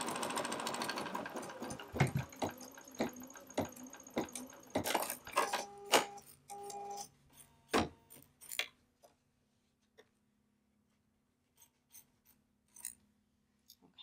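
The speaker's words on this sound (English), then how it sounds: "So then I'll do my next step, which tacks this down. It's a tack down stitch, it's a placement stitch" A quilting sewing machine runs a tack-down placement stitch through fabric on a quilt, a close, steady mechanical whir with rhythmic needle clatter that stops and restarts in short bursts, then gives way to scattered soft clicks and handling noises.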